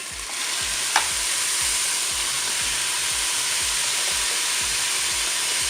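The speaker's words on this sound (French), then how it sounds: "Je vais maintenant ajouter ma viande hachée." Frozen minced meat for a Weight Watchers chili con carne hits the hot Cookeo pot with onions, giving a loud, steady, close sizzle that runs unbroken, with one brief clank near the start.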